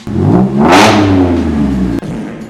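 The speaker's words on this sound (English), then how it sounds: "your straight pipe Golf is not a race car and just sounds like a 4-year-old having diarrhea" A straight-piped Volkswagen Golf exhaust revs hard, a loud rasping crackle that swells up quickly then drops back to a rumbling idle, with a brief click near the end.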